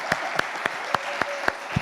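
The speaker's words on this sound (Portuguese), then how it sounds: "então vamos dar um aplauso ao Senhor Jesus." A church congregation clapping together in a steady, even beat, about seven sharp unison claps in under two seconds, close and clear over a quiet room.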